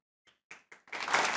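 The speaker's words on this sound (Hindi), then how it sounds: "वाह वाह, नसीर साहब के लिए तालियां।" Studio audience applause on a Pakistani comedy talk show breaks out after a few scattered early claps, building quickly into a dense, loud burst of clapping.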